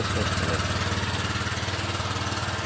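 A Honda Vario 125 LED scooter engine runs roughly at close range, revving with an uneven, pulsing sputter as though about to stall, a continuous rattling drone throughout.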